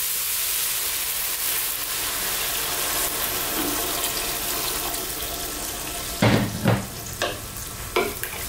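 Water pours into a hot stir-fry pan of noodles and vegetables over lively heat, a steady close hiss and rush, followed near the end by a few sharp clatters of utensils.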